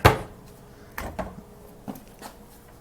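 A sharp knock followed by several quieter wooden clunks and slides of handleless hotel-room drawers being pulled and pushed shut, close by in a quiet room.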